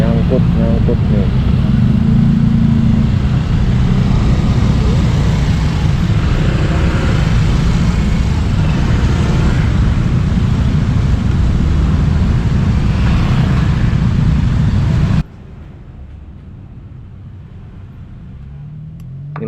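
Riding a Honda PCX 160 scooter through a traffic jam on the road to Puncak, with a loud steady engine drone, wind and surrounding vehicle rumble; the roar drops sharply to a quieter idle near the end.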